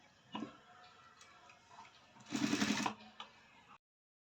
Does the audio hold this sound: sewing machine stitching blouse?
yes